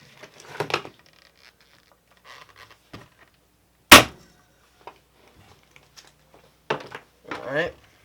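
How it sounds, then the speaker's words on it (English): A nail gun fires once while a homemade hoverboard is being built, a single sharp, close snap that stands out from quiet workshop handling noises and brief talk. "this is where the nail gun comes in handy."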